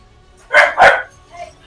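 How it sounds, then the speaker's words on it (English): Two quick dog barks in close succession, loud and nearby, followed by a fainter short yip in an otherwise quiet indoor setting. "the dog's barking"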